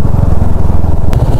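Motorcycle engine on a mountain road, a loud, close, rough steady drone with throbbing low rumble throughout, no speech.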